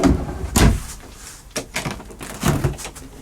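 A small cupboard door in a two-berth caravan bangs open or shut twice, close and fairly loud, with a little handling rattle between and no speech.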